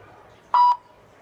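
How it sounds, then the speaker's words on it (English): A single short electronic beep from a golf putting sensor, clear and steady, sounds once in an otherwise quiet moment. "It moves away. You get a beep, so you know."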